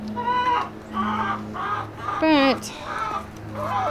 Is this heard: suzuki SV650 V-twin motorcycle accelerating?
no